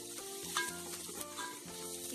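Onions and curry leaves cooking in oil for a cabbage sabzi, stirred together: a soft, continuous sizzle with gentle scraping of the spoon, fairly quiet and steady.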